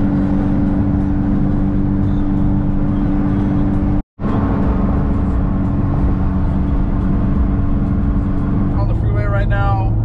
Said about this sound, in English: On the freeway right now, driving back from Dsport